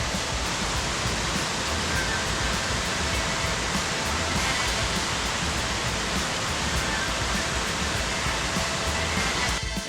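A river runs beside a hiking trail in the Great Smoky Mountains, its rushing water a loud, steady, unbroken roar that fills the whole stretch.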